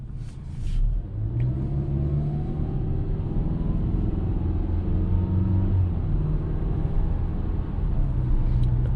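A 2021 Mazda CX-5 with the 2.5 engine and 6-speed automatic on a test drive: a steady, close interior engine rumble with low drone and road noise throughout, no talking.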